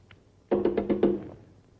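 Police pound on a motel door, five or six firm, evenly spaced knocks in quick succession that land hard and close, with a faint tap just before and no talking during the knocks.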